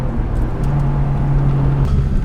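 BMW M635CSi cruising at 70 km/h, a steady in-cabin engine drone with a low hum and a sustained tonal whine, mixed with road and tyre noise, no talking.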